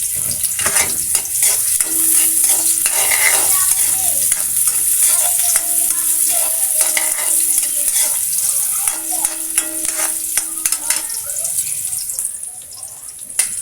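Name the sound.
garlic and onion frying in a pan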